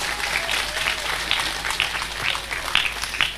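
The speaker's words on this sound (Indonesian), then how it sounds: "Tepuk tangan dulu dong" Audience applause at a religious talk by a female preacher, a short burst of clapping from a crowd that carries steadily through the moment with sharp individual claps on top.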